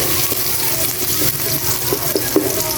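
Celery, carrots and chayote are sautéed in hot cooking oil in a pot, producing a continuous loud sizzle with small pops and crackles.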